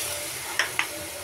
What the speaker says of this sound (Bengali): এগুলিরে ভালো করে কষায় নেব।